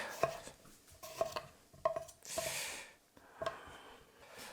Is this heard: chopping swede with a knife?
yes